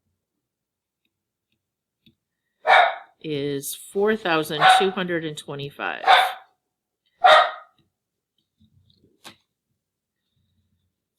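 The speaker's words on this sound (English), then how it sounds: "Sorry about the dogs." Several dogs bark in sharp bursts, loud and fairly close, as if reacting to someone arriving at the door, with a voice speaking between and over the barks.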